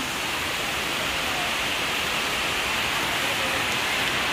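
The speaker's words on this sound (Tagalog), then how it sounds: "Lakas ng ulan." Heavy rain pours down in a dense, steady hiss, loud and unbroken, with no other sounds standing out.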